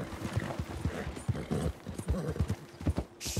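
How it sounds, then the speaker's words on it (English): Rapid, uneven hoofbeats of a horse in the video game Red Dead Redemption 2 clatter in a galloping rhythm, the back legs stammering, close and steady, with a brief higher hiss near the end. "Can you see the way my horse is running?"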